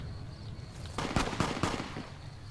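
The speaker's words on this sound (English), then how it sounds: "I hear some gunfire." Several sharp bursts of gunfire in the video game Fallout: Tale of Two Wastelands crack out in quick succession over a steady low background hum, loud and close, with no talking.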